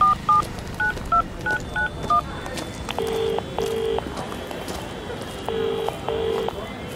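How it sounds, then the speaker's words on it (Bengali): Telephone keypad tones from a phone being dialed, a quick run of short beeps followed by two pairs of ringback tones, with faint background noise and murmuring voices underneath. "নিলয় সরকারের বাড়ি থেকে ফেরার পথে প্রণয়কে ফোন করল দিগন্ত"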